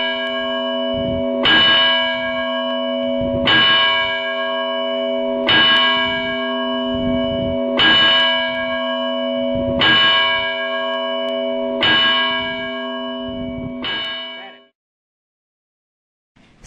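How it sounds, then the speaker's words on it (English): A church bell tolls at midnight, slow evenly spaced strikes about two seconds apart, each ringing out with a long humming decay, loud and close, before falling silent. "Everybody stopped to hear the 12 rings of the bell."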